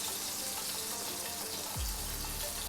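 Peshawari chapli kebabs fry in a pan with a dense, steady hiss and crackle of hot oil, close and continuous, with a soft low thump near the end.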